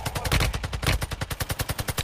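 Rapid automatic gunfire from a silenced weapon in the Warzone Mobile video game, a fast regular burst of about twenty muffled thumping shots, close and steady.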